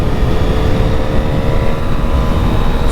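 A 2025 Honda CB1000SP motorcycle at speed gives a steady, loud engine hum mixed with heavy wind rush, continuous and alone with no voices.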